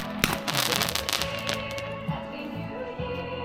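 Fireworks are lit and launched outdoors, with sharp bangs and dense crackling bursts early on that thin into scattered pops amid background noise.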